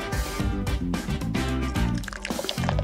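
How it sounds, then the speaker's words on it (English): Whiteout correction fluid pours into a dish in a series of close, loud wet drips and squishy glugs, several distinct bursts with short pauses, no talking. "To do this, pour the whiteout into a dish."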